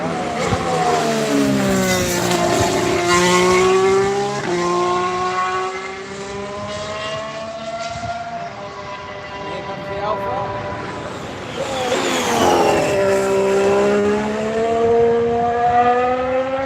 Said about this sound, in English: He's just about to do a practice start, so we're going to try and listen out for him shifting up the gears.